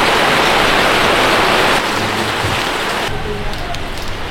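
Heavy tropical rain pours down in Siem Reap in a dense, steady hiss of drops on surfaces, loud and continuous, easing slightly partway through.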